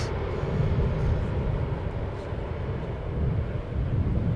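Icelandair airliner arriving from Reykjavik at Schiphol Airport, a steady broadband engine roar with wind buffeting, moderately loud and continuous throughout.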